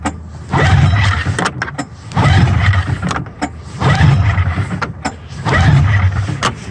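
A Polaris snowmobile engine is being started, with four repeated long churning cranking or pull-start bursts in an even rhythm and short pauses between them. The sound is loud and close.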